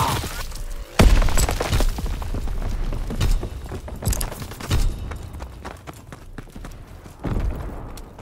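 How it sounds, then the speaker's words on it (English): Enemy artillery shells exploding in Call of Duty WWII, several heavy booming impacts spaced irregularly across the stretch, with one big near blast early and further thuds and crashes amid ongoing battlefield noise. "Incoming enemy artillery! Get to cover!"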